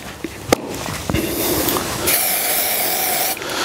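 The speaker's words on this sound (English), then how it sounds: "I'm actually going to spray the face." A close aerosol can of dry shampoo sprays onto a golf club face in a sustained hissing burst lasting a couple of seconds, preceded by a few small taps and clicks.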